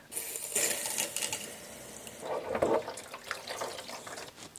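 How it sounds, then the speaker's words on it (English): Water flushing through the radiator of a BMW E34 car, a splashing, hissing flow that swells and fades with gurgling bursts, fairly quiet and close with no talking. "Now it's time to flush out the rad."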